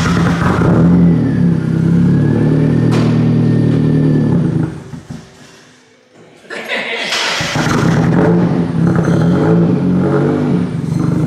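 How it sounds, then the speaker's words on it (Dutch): A straight-piped turbocharged Mazda MX-5 revs loudly up close, its raw exhaust roar dropping away briefly midway before surging back, with a little laughter mixed in. "En hij is nog steeds straight piped, dus best wel veel lawaai."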